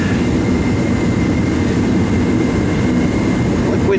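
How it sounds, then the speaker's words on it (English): A heater runs in a workshop during wire replacement on a 550, giving a steady, fairly loud broadband roar that stays even throughout with no breaks. "you can hear the heater in the background now"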